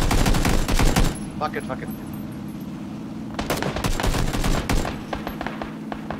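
Rapid bursts of gunfire from the video game PUBG crackle loudly at the start, pause, then return in dense volleys, with a voice briefly speaking over the shooting.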